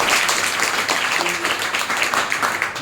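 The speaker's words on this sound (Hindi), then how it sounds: "तो एक बार ताली दीजिए।" Audience clapping in a hall, a dense steady burst of many hands at close range that carries evenly through the short stretch.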